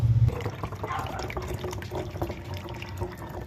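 Water runs through a homemade free-energy water pump setup, a close, steady trickling and splashing flow with small gurgles and drips throughout.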